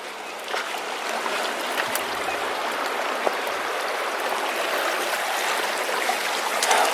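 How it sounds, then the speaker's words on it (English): A mountain stream flows along a backpacking route in the Sawtooths, giving a steady, broad rushing and burbling wash of water close by, with no talk over it. "There's Beth cooling her head off in a stream again."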